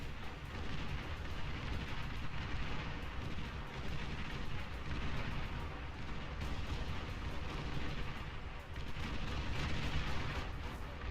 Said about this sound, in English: He's just walking into an absolute wall of rockets.